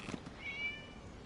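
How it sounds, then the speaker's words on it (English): A single short cat meow in the Genshin Impact video game, quiet and a little distant, over a faint steady ambient background. "It was just a cat."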